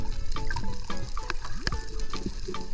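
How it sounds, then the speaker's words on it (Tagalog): A strong water current flows and gurgles nearby, with irregular splashes and bubbling bursts over a constant rushing background. "Lakas ng agos."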